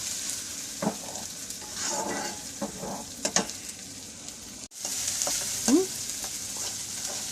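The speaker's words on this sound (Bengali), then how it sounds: "আদা রসুনটা ভালো করে ভাজা" Ginger and garlic fry in a pan with steady sizzling and crackling, broken by scraping strokes of a spatula stirring, close and moderately loud.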